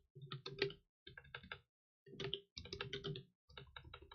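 Quick bursts of computer clicks and keyboard-like tapping sound close and dry in short clustered groups, separated by brief silent gaps, with no talking.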